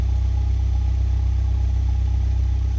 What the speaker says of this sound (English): They are quad tips. They say AMG on them. They are black, and they sound like this